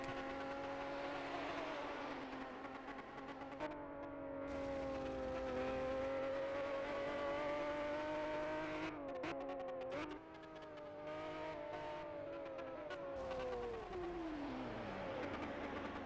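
A race car in a racing game laps Willow Springs International Raceway, its engine whining steadily through gear changes with pitch rising and falling, then dropping away at the end, loud and alone.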